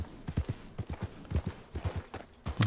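A restless horse's hooves in the video game Red Dead Redemption 2, a rapid rhythmic clip-clop of hoofbeats at a walk or trot, close and steady, with no whinny clearly standing out.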